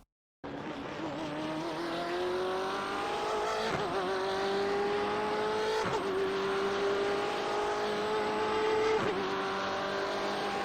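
A BMW M8 GTE race car in iRacing at Road Atlanta accelerates hard, its engine a loud sustained whine climbing in pitch through several upshifts, each gear change a brief break before the tone rises again.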